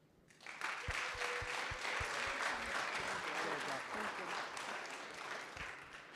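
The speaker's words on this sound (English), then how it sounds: "Can we just give it a round of applause one more time?" A room of people at a finance society showcase evening claps steadily for several seconds, a dense even round of applause rising quickly after a brief quiet start.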